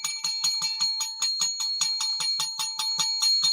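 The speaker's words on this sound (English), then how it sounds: "Hit that bell!" A bell rung after a Detroit Lions win, a rapid, steady string of bright metallic dings at about four strikes a second, loud and close, with no voices.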